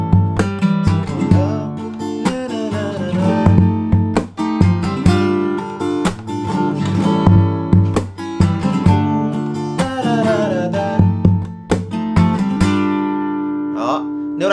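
An acoustic guitar plays a lively strumming pattern for the song Simple Love by Obito, with rhythmic chord strokes and muted chops repeating steadily up close, ending on a ringing final chord.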